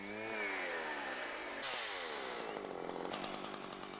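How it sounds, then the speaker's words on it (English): A chainsaw engine roars close by, its pitch rising, then the tone shifts to a rattling, choppy buzz as the upper edge of the chain bites through wood. "Using the upper edge of the chain, you're sawing with the pushing chain"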